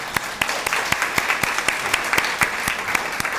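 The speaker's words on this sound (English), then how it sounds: "let's have another round of applause for Julia." Audience at a fall program event applauding, a sustained wash of many hands clapping with sharp individual claps standing out, fairly loud and steady throughout with no voices.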